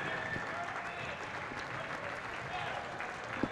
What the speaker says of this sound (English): Let's have a round of applause for all our third grade Mental Attitude Award winners and Coach of the Year.